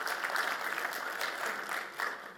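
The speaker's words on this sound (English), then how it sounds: "Give yourselves a round of applause." Audience applause fills a conference room at a talk on software integrations, a steady patter of many hands clapping throughout at moderate level with no voices over it.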